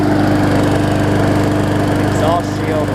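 A Hyper Tough push mower engine, recovering from a severely bent blade, runs steadily and loud up close, with a constant buzzing drone throughout and a faint voice briefly heard over it.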